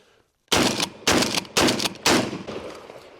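Four loud shotgun blasts fired in quick succession, about half a second apart, from a pump-action shotgun, each sharp crack trailing off into a brief decaying echo with no talking.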